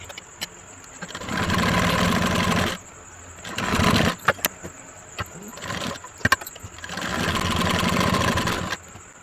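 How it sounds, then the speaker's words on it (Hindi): An electric sewing machine stitches a blouse sleeve in steady whirring runs, two long bursts separated by a stretch of quieter handling clicks and knocks, close and alone without talk. "अब आस्तीन पे भी मैं सिलाई करनी है"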